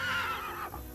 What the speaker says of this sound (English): Horse friend? I hear you.